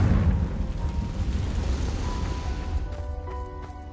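In Hogwarts Legacy, a Confringo fire spell explodes with a deep, rumbling boom that rolls on and slowly fades, with faint tonal game sounds surfacing toward the end.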